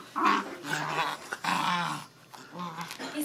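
A dog growls ferociously while tugging and playing with slippers, a close, rumbling growl in uneven bursts with small whimpers, indoors at a family gathering.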